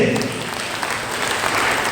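Church congregation applauding after a sermon announcement, a steady wash of clapping from a crowd filling the short span without pause.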